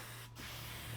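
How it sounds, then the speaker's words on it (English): Short hissing bursts of water sprayed onto cork and moss, two quick spritzes separated by a brief gap, close and quiet, no voices. "So we're going to spray the cork,"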